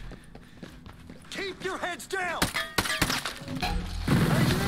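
A weapon reload in the tactical shooter Ghost Recon Breakpoint at night: a run of close mechanical clicks, thunks and metallic clacks, mixed with footstep-like thuds and a few sharp knocks, ending on a louder rumble.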